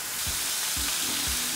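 Sliced portobello mushrooms frying in oil in a pan: a steady, close hiss of sizzling with three soft low bumps as the pieces shift, and no talking.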